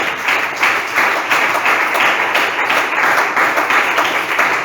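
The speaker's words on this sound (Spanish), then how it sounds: "Denle un fuerte aplauso al Señor y a su nombre." Church congregation clapping loudly in unison, a strong rhythmic wave of many hands beating at a steady pulse in a reverberant hall, with no speech over it.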